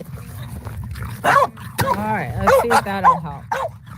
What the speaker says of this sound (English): The barking dog.